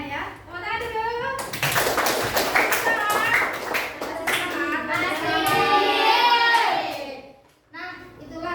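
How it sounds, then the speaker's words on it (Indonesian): Classroom of children clapping their hands in quick, rhythmic taps, with kids' voices and chanting layered over the clapping throughout. "Tepuk tangan dulu"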